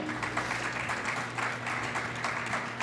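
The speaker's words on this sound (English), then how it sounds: "How about a round of applause for them?" Moderate audience applause for two panel experts after a discussion on mobile 5G, a steady even patter of clapping with a low hum beneath it.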